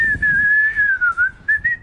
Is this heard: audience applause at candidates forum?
no